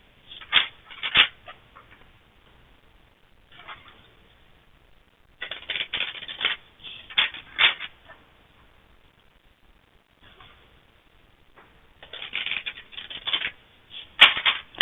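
Divine Abundance oracle cards are shuffled in several separate bursts of crisp riffling and flicking, close to the ear, with quiet pauses between each round and no talking.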